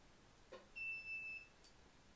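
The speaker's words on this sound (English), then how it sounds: "We got a beep. That's a good sign." Electric dirtbike controller on a Zero MX build giving a single short electronic beep as the key turns, a faint thin tone in a quiet space.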